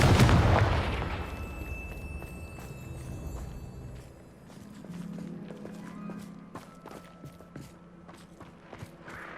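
A Confringo fire spell bursts in Hogwarts Legacy: a loud, booming explosion opens the clip, then decays into scattered crackles and small impact thuds with a low rumble beneath.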